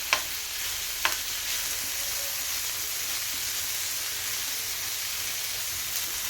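Spice paste sautéing in a pan for a carrot, potato and green pea curry, a steady close hiss and sizzle with a couple of sharp utensil knocks near the start.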